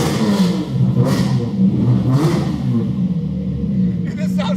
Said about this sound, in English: This sounds like a race car.